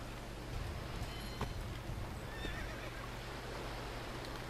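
A horse neighs in the video game StarShine Legacy, a fairly quiet whinny set against a constant hum of background game ambience, with no talking over it.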